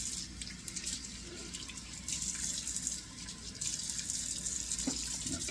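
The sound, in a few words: cold water splashing from a tap for shaving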